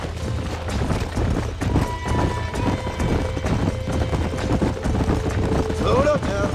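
Horses in the Red Dead Redemption video game trotting with rhythmic clip-clop hoofbeats at a steady pace, close and clear, with a faint whistle-like tone near the end.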